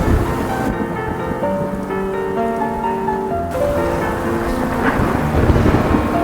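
Heavy rain pours down steadily with deep rumbling thunder rolling underneath, a dense, loud wash of sound that fills the whole stretch without pause.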